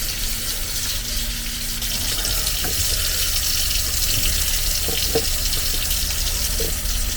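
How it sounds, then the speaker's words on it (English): Water runs steadily from a tap into a sink inside a camper van, a loud continuous gushing splash close by with a few faint knocks beneath it. "This, running water in the van."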